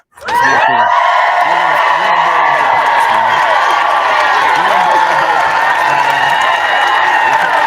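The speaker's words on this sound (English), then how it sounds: "One more round of applause for this offensive line." Loud sustained crowd cheering and applause for a Cowboys offensive line after a win over Tampa, a dense continuous roar with screams and clapping that rises suddenly and holds steady throughout.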